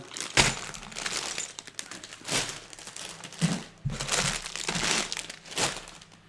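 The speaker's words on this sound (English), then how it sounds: "Sorry for the crinkling." Packaging crinkles and crackles in uneven bursts during the unboxing of a Nintendo Entertainment System build set, close and fairly quiet, with brief pauses between handling.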